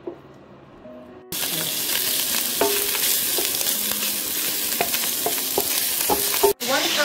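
Lobster pieces hit hot olive oil with chopped garlic in a pan, bursting into a loud, steady sizzle with stirring scrapes, after a quieter start and a brief dip near the end.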